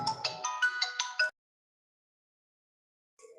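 A phone ringtone plays a quick bright electronic melody for just over a second, then cuts off into silence before a brief faint tone returns near the end.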